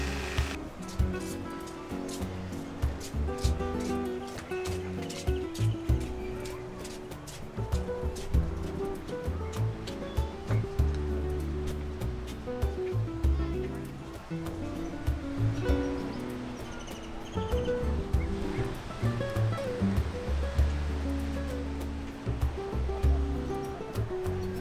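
Ocean waves roll and break on a beach in Cancun, a steady surging wash with repeated low swells and crashes, fairly close.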